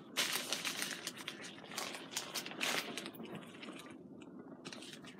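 Crinkling, rustling and tearing of a delivered parcel's packaging being opened by hand, close and moderately quiet, with irregular bursts of crackle that thin out toward the end.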